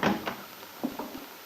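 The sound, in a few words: door of a small cabin opening after a knock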